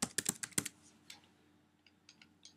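Keystrokes on a computer keyboard as a password is typed, a quick burst of close clicks at first, then a few sparser, fainter taps.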